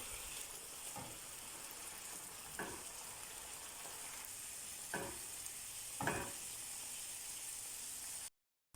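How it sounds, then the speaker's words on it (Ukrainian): Steady, quiet sizzle of pork frying in a pan over medium heat, with a few soft scraping stirs at irregular intervals, then an abrupt cut to silence near the end. "Перемішуємо і жаримо приблизно ще 10-15 хвилин на середньому вогні."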